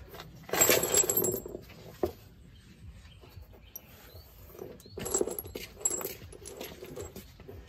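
Metal bolts rattle and clink in a bucket during work on a Mitsubishi drive shaft, with bursts of jangling metal at close range and quieter scraping between them.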